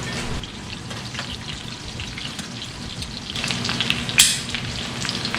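Breaded chicken schnitzel fries in a pan with a soft continuous crackle and spatter, close by, with a brief sharper clatter partway through as the piece is turned, no speech.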